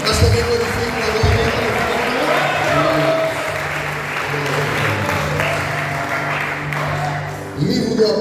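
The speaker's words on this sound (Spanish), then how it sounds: "Aplauda al Señor" A church congregation applauds in sustained, dense clapping that fills the room for several seconds, loud and close, with a voice briefly audible near the end as it tails off.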